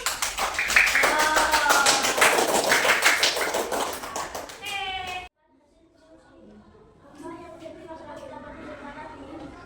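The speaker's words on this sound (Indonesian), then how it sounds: "kita beri tepuk tangan dulu" Schoolchildren in a fifth-grade Islamic studies class clap their hands together in a loud, rhythmic burst of individual claps that stops abruptly, followed by quieter classroom murmuring and a voice.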